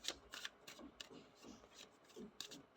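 Tarot cards are handled and drawn in a run of short, crisp slides and flicks, about a dozen quick card sounds close up, with no talking.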